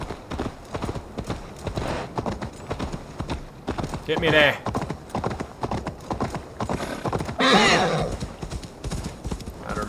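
Rapid rhythmic hoofbeats of a galloping horse in Assassin's Creed Valhalla clatter continuously up close while a person talks over them, with a couple of horse whinnies cutting through midway and near the end.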